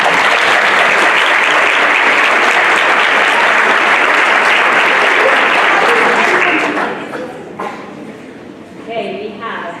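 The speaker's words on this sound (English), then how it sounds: "Let's give her a round of applause" Applause from an audience at a school event: loud, sustained clapping for several seconds that then fades into scattered claps and murmuring voices.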